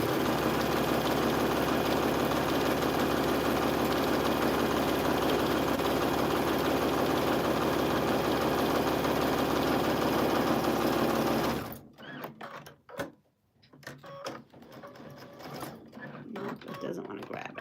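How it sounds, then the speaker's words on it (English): A sewing machine runs loud and steady for about twelve seconds, then stops abruptly, leaving quieter scattered handling noises. "hear sewing machine going."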